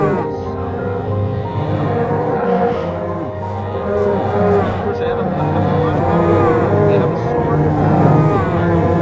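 Several low, drawn-out moos from a cow in Minecraft repeat over about nine seconds, layered under continuous game music and a person talking.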